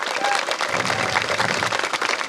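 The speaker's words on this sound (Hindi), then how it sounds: "एक ताली अपने ने दिल से बजा दो एक बार" An audience at a temple event in the Sillewani Range claps together, a dense burst of hand clapping that carries on steadily for a couple of seconds, fairly loud and close.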